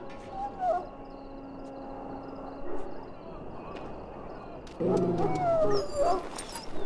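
A sick dog in a pen in the video game Dragon Age Origins gives whimpers and short yelping cries, faint at first and then louder near the end, set against a low game ambience.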